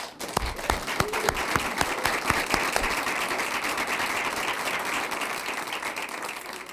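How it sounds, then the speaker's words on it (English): Applause from the audience at a school board meeting, starting with a few loud close claps before swelling into a steady, dense wash of clapping from a roomful of people. "And a round of applause."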